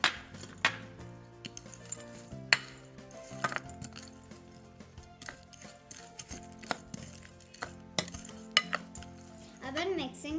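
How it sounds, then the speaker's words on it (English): Masala dal is stirred with onion in a metal dish, giving a close sequence of sharp clinks and scraping taps of a utensil against the bowl at an uneven rhythm. "Then we will mix it."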